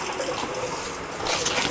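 Water rushes into a stainless Megastor boiler tank with a steady, hissing gush that swells louder near the end, close by and with no talk.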